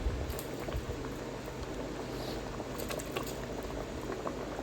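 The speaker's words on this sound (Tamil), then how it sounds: "அரிசி ஆட் பண்ணதுக்கப்புறம் நல்லா கொதிக்குது" Water boils steadily in a pot of vegetable biryani after the rice goes in, a continuous close bubbling and popping with no voices.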